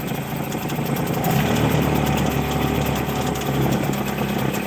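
A Hangkai 6hp two-stroke outboard with a freshly rebuilt carburetor runs steadily at idle, a continuous buzzing drone held close and loud from start to finish with no talk.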